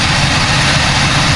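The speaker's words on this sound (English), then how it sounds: "she is running, she's idling more than what she's done" A 1983 Oldsmobile Omega engine idles steadily after carburetor trouble, a loud, continuous low rumble close to the microphone with no voices.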